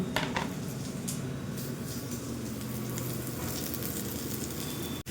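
Constant frying hiss from a pan of chopped tomatoes and onions, with a few light utensil clinks near the start.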